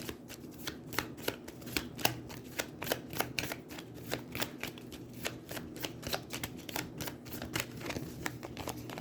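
Aeons End game cards being shuffled repeatedly, rapid riffling bursts in a quick steady rhythm, close and fairly quiet, with no talking.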